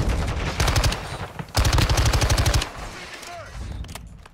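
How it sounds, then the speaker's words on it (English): SMG fire in Call of Duty: Modern Warfare 2 comes as two loud, rapid automatic bursts, each lasting about a second, with brief quieter game sounds in between and after. "I like SMGs with like the 50 round clips, and this gun only got a 25 mark."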